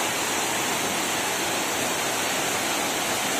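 Waterfall in the Garden of Caves at Cherrapunji, Meghalaya, pouring through a small round opening in the rock above, a loud, steady, close rushing roar with no voices.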